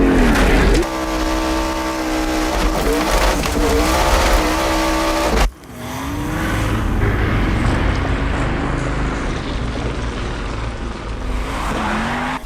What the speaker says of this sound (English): Ken Block set out to basically drift this corner.